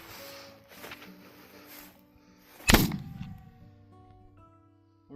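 A single sharp, loud report from an 1859 Sharps sporting rifle cracks out at close range, followed by a brief ringing decay, with quieter outdoor background noise before and after.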